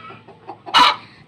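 A single loud hen cluck bursts out near the end, preceded by softer, faint clucking murmurs; close by, no talking.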